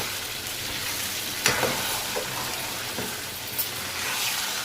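Cooked sambar rice is stirred and mashed together in a pot, giving a continuous soft wet squelching with a few scraping knocks against the metal, close and moderately loud.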